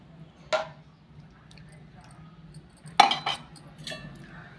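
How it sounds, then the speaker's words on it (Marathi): Drumstick vegetable curry stirred in a pot after ground-masala water is added, with a few sharp clinks of the spoon against the pot amid quiet background hum. "थोडंसं आपण ढवळून घेऊया"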